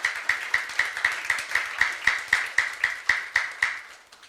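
Rhythmic unison clapping from a church youth congregation during a sermon, steady evenly spaced claps about four per second, moderately loud with a sustained tone running underneath.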